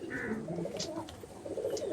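Madrasi pigeons coo at a loft in Ichhapur near Kolkata, soft repeated throaty calls close by with a few faint chirps mixed in.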